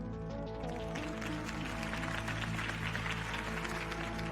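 A crowd in the Batman Telltale video game applauds after a campaign speech for Harvey Dent, a continuous wash of clapping over a steady music bed, fairly quiet overall.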